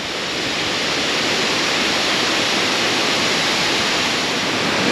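Rushing water at Jangkar waterfall, a dense, steady roar of falling water that holds constant and loud throughout with no voices.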